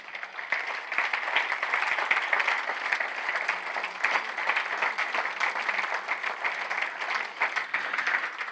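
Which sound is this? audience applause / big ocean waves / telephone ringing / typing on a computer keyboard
audience applause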